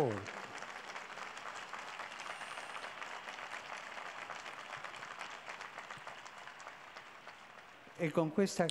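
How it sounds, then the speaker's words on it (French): A crowd at a papal general audience applauds steadily for several seconds, a dense wash of clapping, before a voice begins speaking at the end. "Et on peut l'applaudir."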